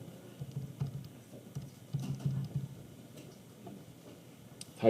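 Calculator buttons pressed while entering values for a sinusoidal regression, a quiet run of irregular soft key taps and clicks, close but faint, with no talking.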